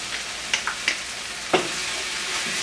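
A spoon scrapes and clicks a few times in a sizzling pan of Turkish menemen with ketchup, soft frying hiss running steadily underneath.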